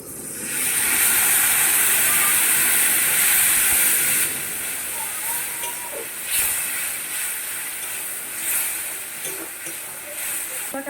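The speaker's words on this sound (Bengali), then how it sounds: "সামান্য একটু পরিমাণে বন্ধুরা দেখুন জল দিচ্ছি।" Water poured into a pan of frying spices with turmeric and salt bursts into a loud, close hiss of sizzle and steam, which fades after about four seconds to a softer, uneven crackle with occasional stirring.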